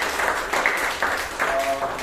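Audience at a Toastmasters club meeting in Bangalore applauding, a steady wash of many hands clapping at moderate distance, sustained throughout.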